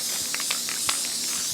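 A spray nozzle in a woodworking shop, used while finishing an outfeed table for a SawStop table saw, giving a short steady hiss with a few brief spurts, close and alone without talk.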